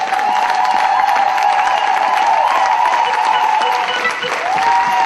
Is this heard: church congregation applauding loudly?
yes